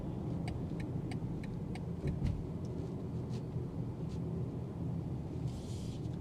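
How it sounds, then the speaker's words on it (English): Cabin road noise in a 2026 BMW X1 xDrive28i on 19-inch wheels, a steady low tire rumble and hum throughout with faint periodic ticks from the road surface, no speech. "you'll probably hear a little bit more road noise, especially with these 19-inch wheels"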